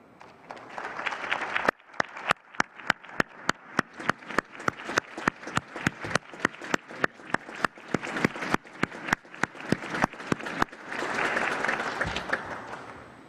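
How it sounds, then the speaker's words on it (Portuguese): Audience applause at a swearing-in ceremony of Brazil's Superior Electoral Court, with many sharp rhythmic claps rising into dense, sustained clapping from a large crowd, nearby and fairly loud. "Luiz Roberto Barroso, meu dileto amigo, Vossa Excelência merece, sem favor algum, o nosso reconhecimento e o nosso aplauso"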